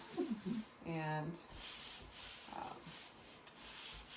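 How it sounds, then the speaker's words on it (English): Hand sanding of dried drywall joint compound gives soft, close scratchy rubbing strokes, with a brief voice and a few faint sounds mixed in. "I'm going to do a little bit of sanding here"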